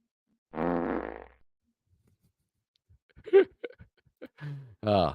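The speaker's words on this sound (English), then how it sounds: "Anyway, I farted." A single loud, buzzing fart lasts under a second, followed by a pause and then someone speaking quietly nearby.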